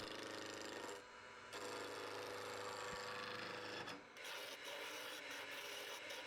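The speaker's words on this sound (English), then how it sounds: "At the lathe, I put the blank between centers and rough turn it using a 3/4 inch spindle roughing gouge." A 3/4 inch spindle roughing gouge rough-turns a poplar blank held between centers on a lathe, giving a continuous rasping, scraping hiss that breaks off briefly twice and then resumes, close and steady.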